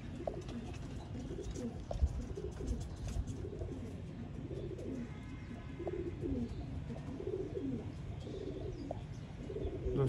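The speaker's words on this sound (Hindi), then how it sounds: "दोस्तों ये लाल आंख के आपको वो कबूतर दिखाए जा रहे हैं जो खुद उड़ चुके हैं" Pigeons coo softly and repeatedly in low, rolling phrases, several birds overlapping at a loft of Sialkoti breeder pigeons, set against a steady background hum with no one speaking.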